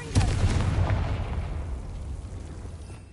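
A Confringo fire spell explodes in Hogwarts Legacy, a loud booming burst at the start that rolls off into a long, fading rumble, with no voices over it.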